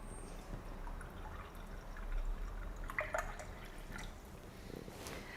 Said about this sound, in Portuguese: Vou colocar aqui meio copo de água para ajudar a bater também